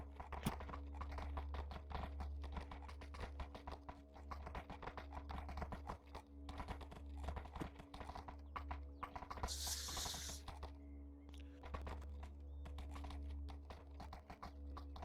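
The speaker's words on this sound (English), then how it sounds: "they hear the sound of hoofs behind them" Hooves approaching in a fantasy roleplay scene, a rapid continuous clip-clop of horses under a steady low hum, moderately loud throughout with a brief hiss partway.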